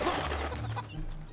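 Chickens in the video game Fable Anniversary give a brief burst of close, clear clucking.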